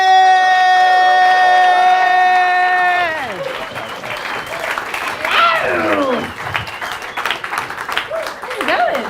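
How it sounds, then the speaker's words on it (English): Audience applause with whoops and cheers at a comedy show, rising loudly after a sustained tone fades, with dense clapping and shouted voices for several seconds. "the claps, the whoops, the cheers are welcome all the way to the stage"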